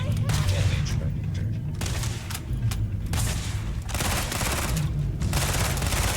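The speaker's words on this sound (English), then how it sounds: "Oh, it's a turret." Automated turret fire aboard a medical space station in Starfield: dense, continuous volleys of rapid gunshots with short pauses between bursts, loud and close throughout.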